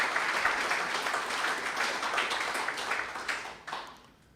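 A workshop audience breaks into a burst of dense clapping for several seconds, which then thins out and fades to a few scattered claps.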